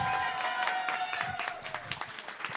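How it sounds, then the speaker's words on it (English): An audience at a workshop event gives a round of applause, a dense burst of clapping that starts loud and thins into scattered claps over a few seconds, with a voice briefly audible. "Let's do it by round of applause."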